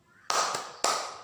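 Two sharp, close claps, evenly spaced about half a second apart, each ringing out briefly, from a children's 'tepuk anak soleh' clapping chant in a classroom lesson.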